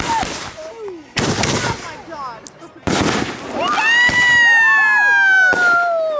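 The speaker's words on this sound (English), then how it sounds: "This night we moved on to more and bigger fireworks." Fourth of July fireworks bang and crackle in rapid bursts, with whistling rockets rising and squealing, and excited shouts from people nearby.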